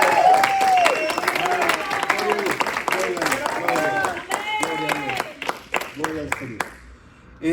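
A church congregation applauds during a Spanish-language service, steady clapping mixed with voices and singing tones over the top, tapering off near the end.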